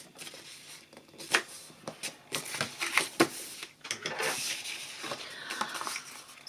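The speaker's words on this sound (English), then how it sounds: "So you fold all these scored lines" Paper crackles and snaps sharply as scored lines of a paper gift box are folded by hand, a close, irregular series of creases and taps with no talking.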